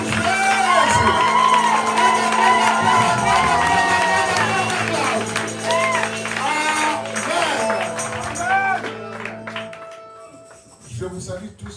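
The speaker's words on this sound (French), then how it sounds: "Acclamez pour Jésus. Acclamez pour les rois des rois." A church congregation cheers and shouts in acclaim, a loud mass of voices and whoops that carries over a steady musical drone, then fades away to near silence.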